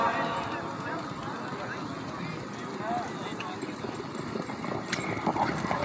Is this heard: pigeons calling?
no